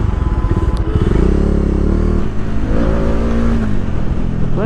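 Bajaj Dominar 400 motorcycle engine running nearby, a loud, steady low throb with fast pulsing firing beats that shift pitch slightly midway, heard alone without talk.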